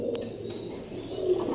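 Red saddle fieldback pigeons in a loft, with soft cooing under a steady background hum and a few faint chirps, close by and fairly quiet.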